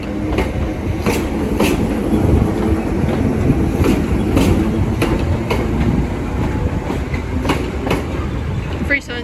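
A train pulling out of Cambridge station, bound from Cambridge sidings north to Bishop Stortford sidings, rumbles steadily and close with a dense low roar, repeated wheel clicks over rail joints and faint metallic squeals throughout.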